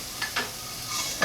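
Shallots sweating in hot canola oil in a pan for clams: a soft, steady sizzle with a few brief scraping stirs, close and moderately quiet, no talking.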